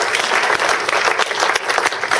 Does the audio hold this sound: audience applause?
yes